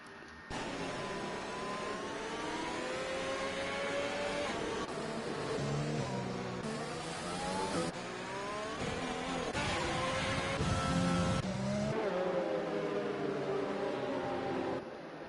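Race cars in an F1 video game cruise slowly behind the safety car, a steady, sustained engine drone with rising and falling pitch sweeps that holds continuously, mid-loud, with no talk.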